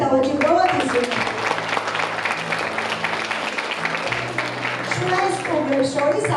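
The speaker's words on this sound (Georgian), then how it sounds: "მინდა მხურვალი აპლოდისმენტებით დავაჯილდოვოთ ისინი" Sustained warm applause from a school audience honouring pupils and their directors, steady dense clapping with a murmuring crowd, lasting throughout, and a voice speaking over it.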